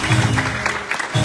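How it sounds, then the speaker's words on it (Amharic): A church congregation clapping to send off a family, a dense burst of hand claps from many people indoors, with voices and a low tonal hum underneath. "አጨብጭቡና ሸኛቸው"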